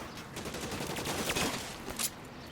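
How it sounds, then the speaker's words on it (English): Rapid bursts of gunfire ring out in an LA Noire shootout, with overlapping shots rattling close and loud across a steady bed of noise and one sharp crack standing out near the end. "The son of a bitch shot me!"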